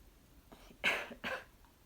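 A person coughs twice in quick succession, short and husky, close to the listener in an otherwise quiet room.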